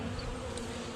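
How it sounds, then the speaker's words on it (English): Steady, dense buzzing of many honeybees swarming a robbed-out hive stripped of honey and pollen, with wax cappings left behind; a continuous close drone with no pauses. "And all these bees are just here for free resources."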